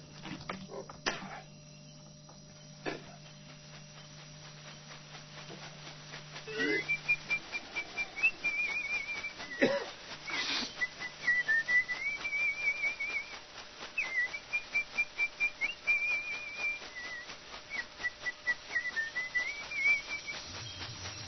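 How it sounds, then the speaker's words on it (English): Whistling during an ayahuasca ceremony, a wavering melodic tune carried over a quiet night background, joined by soft rhythmic beating of a shakapa leaf rattle and occasional faint sounds. "whistles and beats his shakoppa to both calm the initiates and help bring on their visions"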